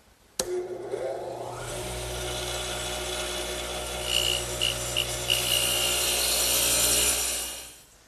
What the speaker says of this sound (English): to cut the tenons, I'm going to use my radial arm with the dado head cutter as before